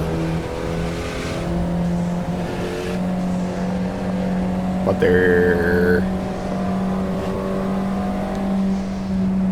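A car engine in a racing video game holds a steady drone while passing traffic cars, with a brief higher whine midway. A person talks briefly over it.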